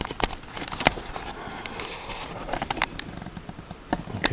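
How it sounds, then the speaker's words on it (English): Steady rain patters outside a pottery workshop, a dense crackling hiss with scattered sharper drops striking close by. "We can hear that rain, can't we?"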